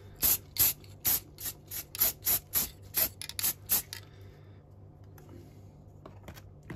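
Primer from a spray can hisses onto a 1/100 scale LAV-25 and brown-water navy boat models in about eleven short, close bursts, followed by a few seconds of near quiet.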